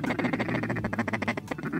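Mallard ducks feeding in a field during a morning duck hunt give a loud, close, rapid run of quacks, with calls packed tightly together throughout.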